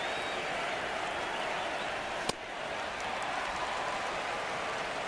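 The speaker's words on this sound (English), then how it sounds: "the crowd noise feels very staticky these days" Staticky crowd noise in a baseball video game, a constant hissing wash of ballpark crowd with one sharp crack midway through.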